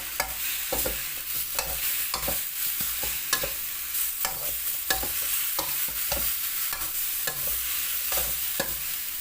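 Frogs being stir-fried in oil in a pan over high heat, a steady loud sizzle broken by repeated scraping strokes of a utensil in a fairly regular rhythm, close up with no voices.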